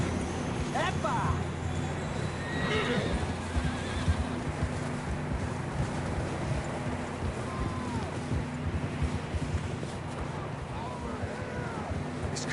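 In Red Dead Redemption 2, horses whinny a few times over a steady low rumble and wind, with people talking intermittently; a busy outdoor scene that sounds somewhat synthetic.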